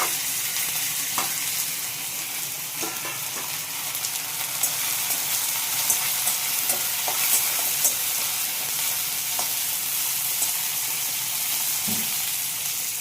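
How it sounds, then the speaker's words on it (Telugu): Curry leaves and green chillies frying in a pan for rice rava raw mango pulihora, a steady close sizzle with occasional crackles and stirring scrapes, no talking. "వేయించుకోండి ఈ కరివేపాకు ఇవి కూడా వేసేద్దామండి కరివేపాకు పచ్చిమిరపకాయలు"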